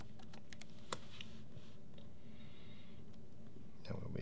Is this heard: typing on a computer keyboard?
yes